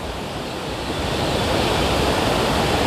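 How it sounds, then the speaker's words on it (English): Water pouring over a dam along the Appalachian Trail, a steady, dense roar of rushing water that holds loud and unbroken throughout, swelling slightly partway through, with no voices. "There's the water going over the dam."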